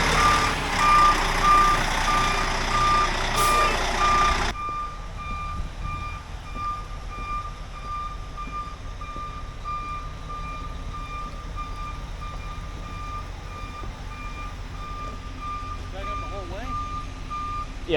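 A new low-bed truck reverses in the rain with its backup alarm beeping in a steady repeating pattern. A loud engine rumble at the start drops away after a few seconds, and people talk quietly over the continuing beeps.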